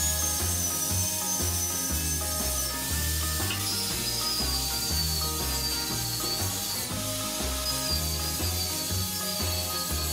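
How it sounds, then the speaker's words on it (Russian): A hand saw cuts 10 mm plywood into rough lengths with continuous rasping strokes, fairly quiet and close, running under steady background music. "С помощью пилы распиливаю на не совсем точные отрезки."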